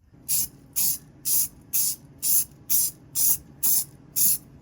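Nine short bursts of spray paint hissing from a can while repairing a headlight on a 1995 Porsche 968, evenly spaced with brief pauses between, close and fairly loud.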